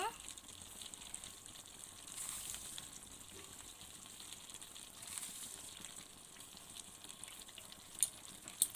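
Chicken and potato pieces frying in a pan, giving a steady, faint sizzle that runs throughout, with a couple of small clinks near the end.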